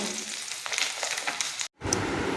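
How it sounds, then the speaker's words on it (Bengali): Turmeric- and salt-rubbed fish frying in hot oil in a wok, a steady close crackling sizzle that cuts off abruptly near the end, then resumes just as loudly. "এবার মাছগুলোকে হলুদ লবণ মাখিয়ে কড়াইতে তেলের মধ্যে দিয়ে দিলাম।"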